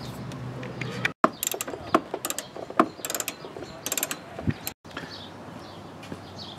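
Ratchet wrench clicking as three 10 mm bolts come off a battery brace in a Trailblazer or Envoy engine bay, close and moderately loud, with quick bursts of ratcheting and metallic clicks separated by short pauses.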